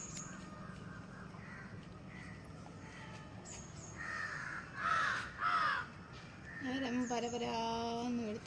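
Several harsh crow caws ring out in an outdoor setting while someone calls the birds to be fed, with a louder burst of calls in the middle and voices and household sounds around them.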